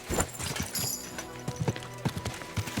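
Horse hooves clip-clop in a steady walking rhythm in the medieval video game Kingdom Come Deliverance, fairly close, with a brief whinny-like tone early on and no talk.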